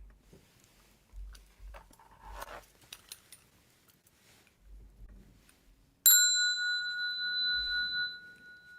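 A single bell at a Buddhist temple strikes sharply and rings on with a long, clear sustained tone, following a stretch of faint rustling and low bumps.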